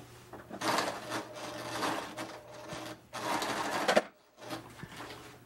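A sewing machine stitching a slipcover close to the arm front, running in two long steady bursts separated by short pauses, with a brief stop and restart near the end and no talking.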